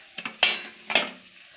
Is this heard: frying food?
yes